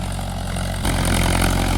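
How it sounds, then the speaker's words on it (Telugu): A farm tractor engine idles steadily at close range during field preparation for a maize crop, a low rumbling throb that grows louder and rougher partway through, with no talking. "ఇది నా ట్రాక్టర్ అండి"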